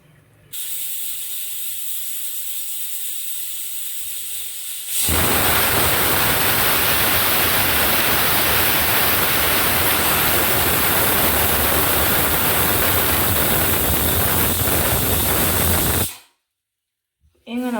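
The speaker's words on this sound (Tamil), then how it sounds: "ஒரு விசில் வச்சுட்டு இப்போ அடுப்பு சிம்மில் வச்சுக்கிட்டேன்" A pressure cooker cooking chicken curry vents steam in a loud, steady roaring hiss that runs about eleven seconds, preceded by a quieter hiss, then cuts off abruptly.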